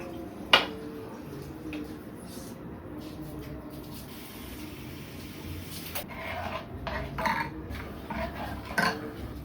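A spoon clinks and scrapes against a pot while fish curry with coconut and mango is stirred, in scattered sharp metallic knocks over a quiet kitchen background, with no speech.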